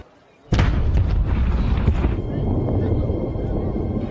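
A loud, sudden blast from an action film bursts in after a short silence, followed by several seconds of dense rumbling debris and roar, with a second thump partway through.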